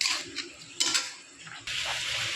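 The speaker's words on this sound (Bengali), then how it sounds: "এবার এটাকে ভালো করে মিক্সড করবো যাতে মশলাগুলো মাংসের থেকে ভালো করে ঢোকে" Chicken meat being mixed by hand with chilli powder and spices in a bowl, giving close, wet squelching and scraping bursts with a few brief clinks, no talking.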